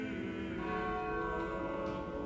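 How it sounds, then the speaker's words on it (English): Restored bells in a church tower at a Chicago shrine ring together in a continuous, overlapping peal, with rich resonant tones sustained throughout at moderate distance. "The original bells that years ago rang out for weddings and funerals ring out again."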